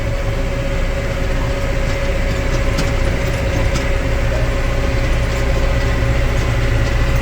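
A farm tractor drives while raking hay, its engine giving a loud, steady low drone with a constant mechanical whine, close and continuous without talk.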